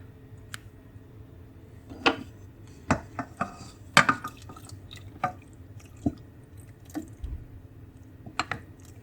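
Citric acid solution is poured into simmering milk in a kitchen pot, giving soft trickles, drips and scattered clinks and taps, close and moderately quiet, with no talking.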